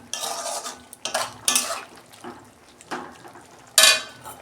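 A metal lid comes off a pot of cooking bottle gourd with prawns in a home kitchen. Several sharp clanks and scrapes of metal on metal come through separately, with nobody speaking.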